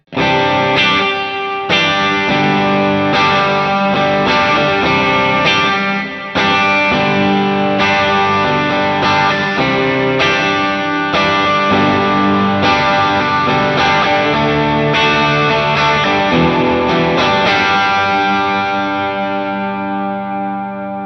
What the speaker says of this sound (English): Let's turn the octave off and just see how the reverb sounds.